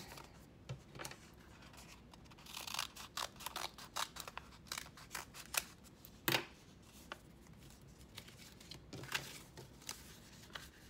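Scissors cut through folded paper for a flip book, a run of crisp close snips and paper rustles, some quick and clustered, others spaced apart, with quiet gaps between.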